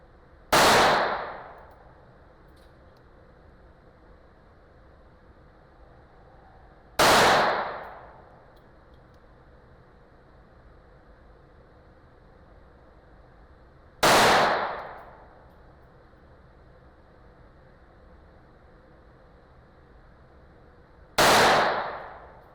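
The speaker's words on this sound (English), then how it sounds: "I braced the pistols as good as I could, and I shot as carefully as I could." Four single pistol shots ring out from Ruger and PSA 5.7 pistols fired at a 25-foot target, each a loud sharp crack with a short decaying tail, spaced about seven seconds apart over quiet background.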